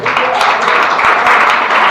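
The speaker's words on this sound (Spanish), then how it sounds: "Si va a dar un aplauso, dáselo a aquel que viene por los siglos de los siglos." A congregation applauding during a Christian church service, loud continuous clapping from many people close by, a thick steady patter with a few voices mixed in.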